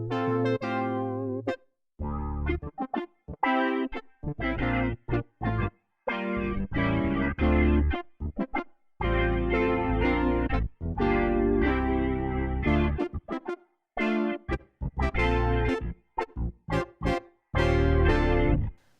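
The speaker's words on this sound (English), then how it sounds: "So it's got clav and organ underneath, a brass synth with some upper harmonic layers" A Nord Stage 4 brass synth patch layered over clav and organ plays chopped, rhythmic chords and stabs with gaps between phrases, bright and full, and no talking.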